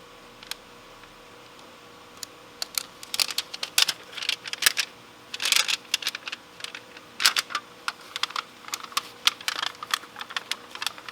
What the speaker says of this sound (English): So now we have our little foil pouch, and what I'll do is I'll open it and try not to over crease it or anything.